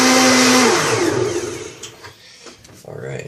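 A kitchen blender whirs loudly, its motor pitch dropping as it spins down and stops, leaving a quieter room with some faint noises afterward.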